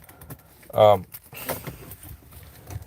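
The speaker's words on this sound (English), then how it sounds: "I just took my keys out." A brief metallic jingle of keys being pulled out of a car, one short bright burst standing out near the start over faint background noise.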